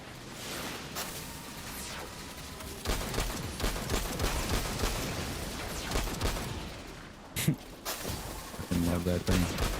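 Gunfire in the sci-fi shooter Destiny, rapid bursts and booming blasts layered over a busy battle din, with a person talking over the action.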